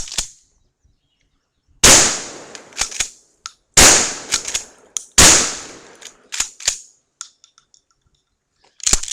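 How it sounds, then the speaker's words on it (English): Blasts from a Stevens/Savage Model 67E shotgun fired at a shaken bottle of orange drink sound as loud, sharp reports. Three big booms are spaced about two seconds apart, each followed by clattering and splashing debris. "Let's see what a shotgun will do to some of it."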